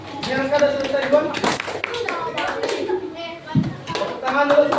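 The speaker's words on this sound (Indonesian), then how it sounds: "Tepuk tangan dulu untuk kelompok 6." Classroom applause for a student group, with children's hands clapping in an uneven burst among chatter and a teacher's voice, rising and falling through the room.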